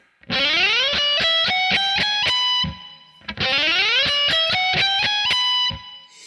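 Distorted electric guitar plays a fast tapping lick twice, each burst a rapid run of sharp, saturated notes ending in a held tone, loud and close without speech.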